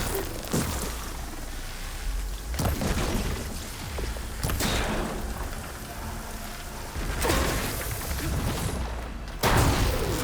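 Machines in Horizon Forbidden West blow up in a run of heavy booming blasts that come several times at irregular gaps, loud and close, with rumbling noise between them.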